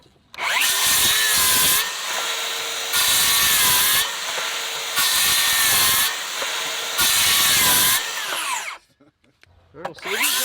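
A DeWalt cordless circular saw cuts through wood in four loud, sustained bursts, each with a rising whine under load and short pauses between cuts, ending with the motor spinning down and a little handling noise.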